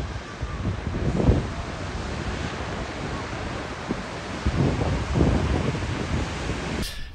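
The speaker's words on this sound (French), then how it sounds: "arrivé au spot, il y a des vagues, c'est un peu le bordel" Ocean waves break at a surf spot on the Loire-Atlantique coast, a continuous roaring wash with swelling surges, heavily buffeted by wind across the microphone.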